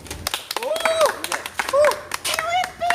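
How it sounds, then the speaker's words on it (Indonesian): Students in an outdoor class clap their hands together, quick sharp claps scattered across the moment while voices talk and call out over them. "Tepuk tangan dong."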